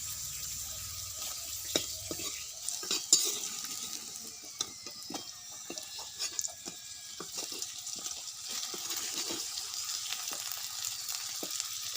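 Potato pieces, a large local variety, fry in a wok and get stirred, giving a steady faint sizzle with scattered scraping clicks from the spatula and no talk.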